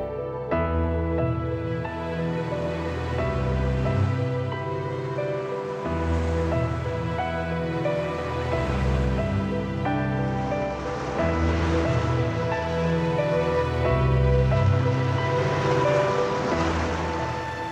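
Surf breaking on the beaches of the north coast of Lewis, a continuous loud wash with rolling swells, heard alone with no voices.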